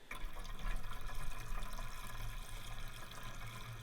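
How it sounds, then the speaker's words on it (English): Water runs steadily into the coolant system of a Bugatti Veyron, a continuous close trickling and splashing that holds at a fairly even level with no voices over it. "I would be interested just to top it up with some water"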